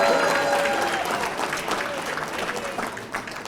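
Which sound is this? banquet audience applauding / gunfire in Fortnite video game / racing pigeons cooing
banquet audience applauding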